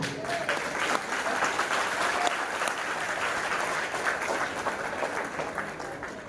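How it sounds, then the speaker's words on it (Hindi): Audience applause at a gathering honoring soldiers and a singer, a continuous dense clapping from a crowd, steady and moderately loud throughout, with faint voices underneath. "थैंक यू आपकी इन सुंदर तालियों के लिए"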